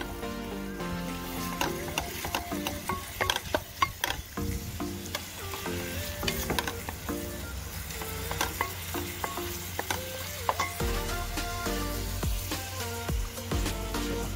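Lasagna filling with Italian seasoning being stirred as it fries in a pan, with steady sizzling and repeated scraping and clinking strokes of a utensil; background music plays throughout and no one speaks.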